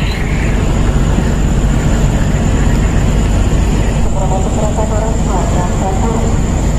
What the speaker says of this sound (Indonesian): Diberangkatkan lagi kereta api Jakarta.